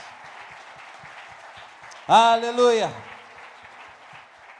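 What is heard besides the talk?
church congregation applauding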